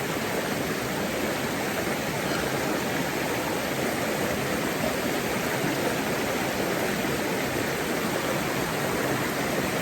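Water runs steadily throughout while a face is washed with turmeric soap in an off-grid home in Jamaica, a constant broadband hiss with no talk.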